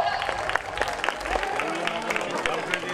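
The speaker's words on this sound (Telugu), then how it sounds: "గట్టిగా చప్పట్లు." A crowd of women at a Bathukamma festival celebration claps and cheers after a prize number is called, a steady patter of applause with murmuring voices mixed in.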